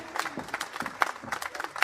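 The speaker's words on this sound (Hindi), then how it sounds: "तालियों से अभिवादन।" Audience at the Rajasthan Public Service Commission's 73rd foundation day ceremony claps in a steady, dense round of applause, with sharper individual claps standing out against the crowd.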